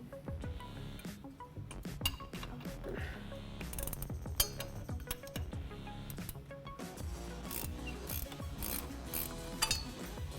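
Wrench ratcheting and metallic clinks come from removing the 18mm lower shock mount bolts on a Jeep Wrangler JK front axle, with steady repeated ratchet clicks close by and no talking.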